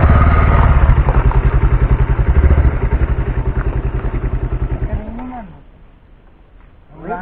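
A motorcycle engine revs loudly with a steady throbbing pulse, then cuts back to a low idle before a brief rise at the end.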